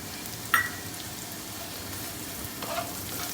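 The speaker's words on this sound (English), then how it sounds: "saute for a couple of minutes" Green beans and carrots sautéing over a big flame, a steady moderate sizzle with two brief scraping knocks of a spatula against the pan.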